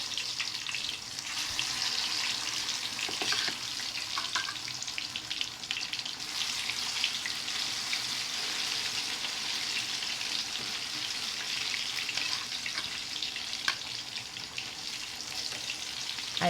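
Ripe plantain frying in a pan over low to medium heat, a steady soft sizzle and crackle throughout, with no talking.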